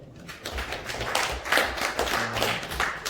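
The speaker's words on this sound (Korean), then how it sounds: "박수 한번 주시죠" Audience members at a seminar on Korean reunification clap for a newly introduced guest, a soft, steady patter of applause heard from a distance with light thumps.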